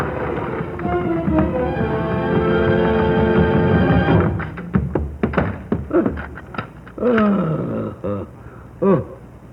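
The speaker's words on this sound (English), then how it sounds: "as if somebody were dragging a heavy chain?" A heavy chain drags and grinds for several seconds, then clanks and clatters in loud, uneven bursts on stairs, in a 1947 live radio broadcast of A Christmas Carol.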